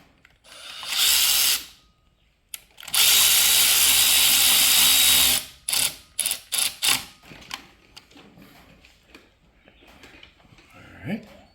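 A power tool drives bolts into a Toyota Valvematic engine in two loud sustained bursts, the second longer, followed by several short trigger pulses and quieter clanks as parts are handled nearby.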